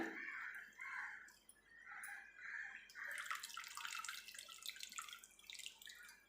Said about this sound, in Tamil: கொஞ்சமாக புளி தண்ணியும் ஆட் பண்ணியாச்சு